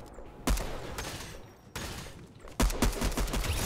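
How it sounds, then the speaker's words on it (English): Gunfire from opponents in the Fortnite Chapter 3 video game on Nintendo Switch, with several loud bursts of shots breaking in at intervals over a steady background of game noise. "here they go, they're shooting at me"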